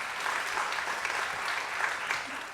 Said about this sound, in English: Big round of applause for our sponsors for the show today.